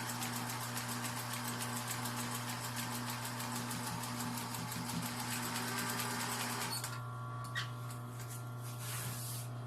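A sewing machine runs steadily, stitching elastic onto boxer shorts with a short stitch; a continuous close mechanical whir and rapid needle patter fill the span, then ease into lighter, intermittent stitching near the end.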